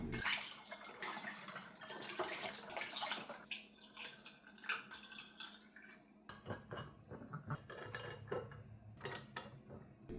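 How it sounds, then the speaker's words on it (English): Homemade anti-inflammatory wellness juice is poured into an airtight glass bottle, a faint continuous liquid trickle and gurgle with light glassy clinks, heard close and quiet with no talking. "pour the juice into a airtight glass bottle or a jar"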